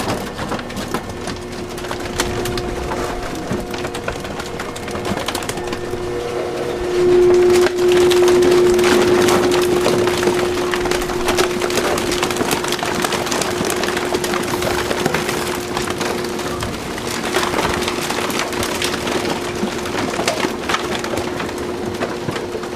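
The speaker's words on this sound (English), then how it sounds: "That was, you might have guessed, the Waste Reduction District's plastic compactor" A plastic compactor at a waste reduction district, grinding and crunching continuously with splintery cracks and a sustained mechanical hum that swells in the middle, loud and close with no voices.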